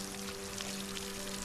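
A steady pouring stream of water from watering crops in a solarpunk farming game, a continuous close splashing flow over a faint tonal hum.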